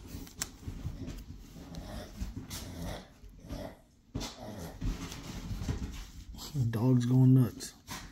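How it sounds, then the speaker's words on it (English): A dog growls, snuffles and snorts up close, the sounds building to a louder growl near the end, amid nearby talk. "Dog's going nuts."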